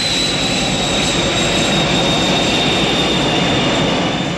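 A jet aircraft roars steadily at full power as it accelerates down the runway on its takeoff roll, a loud, continuous broadband rush with a high whine over it, heard without any voices.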